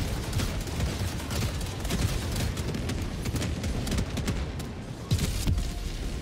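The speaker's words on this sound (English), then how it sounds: "Oh, it already blew up." A tank exploding amid dense gunfire in the video game Helldivers 2, heard as a continuous, fairly faint clatter of rapid shots with a few heavier booms.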